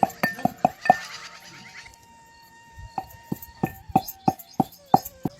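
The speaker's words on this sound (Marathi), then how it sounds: "आता हे सारं कुटून घेते मी" Garlic, cumin, ajwain, turmeric and salt being pounded in a mortar, sharp rhythmic knocks in quick bursts, a pause, then a second run of evenly spaced strikes, close and clear.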